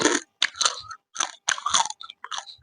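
Close, loud crunching bites and chews of crisp pickled field crab come in short irregular bursts separated by brief pauses, with no talk.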